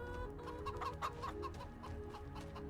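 Chickens on a farm in the video game Farming Simulator 25 cluck in a steady, quiet run of short calls, heard at a distance with no voices over them.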